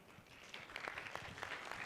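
Audience at a yeshiva coronation evening breaks into applause, a fairly quiet, distant patter of many hands that builds slightly and holds steady for a couple of seconds.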